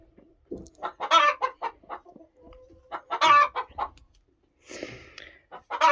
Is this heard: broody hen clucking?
yes